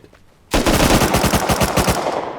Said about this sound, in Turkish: Abi Thompson bana biri sıktı